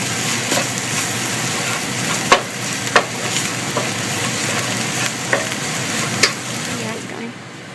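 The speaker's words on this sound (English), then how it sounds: "we'll just saute this off for another minute or so to cook the garlic through" Garlic and mirepoix sautéing in a pan for osso buco, giving a steady close sizzle with occasional sharp knocks and scrapes of a stirring utensil throughout.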